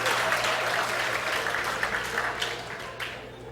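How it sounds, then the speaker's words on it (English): Audience applause at a JavaScript conference talk, a steady round of clapping from a seated crowd that tapers off toward the end, with no speech over it. "that is the applause of pity"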